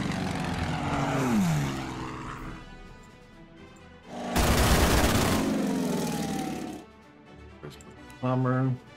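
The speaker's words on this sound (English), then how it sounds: "Bomber." A propeller-driven bomber drones loudly overhead, swelling into a roaring pass, then fading as the engine noise cuts in and out among other battle sounds.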